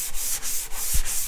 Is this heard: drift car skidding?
no